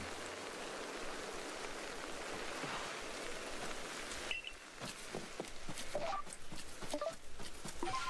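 Steady rainfall in the video game Pokémon Legends: Arceus, a soft continuous patter at low level, with sharper drops and faint footstep-like taps joining in partway through, and no talk.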